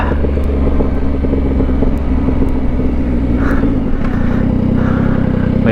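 A 2024 Yamaha XSR 900 motorcycle is ridden at steady speed, its engine a continuous loud drone with dense low-frequency rumble and wind buffeting throughout, with no voices heard.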